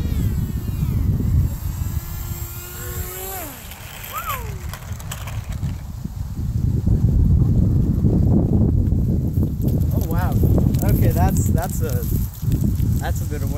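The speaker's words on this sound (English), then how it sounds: "That's a bit of wind." Outdoors, wind buffets the microphone with a heavy, uneven low rumble that swells and fades over several seconds, while a person talks over it.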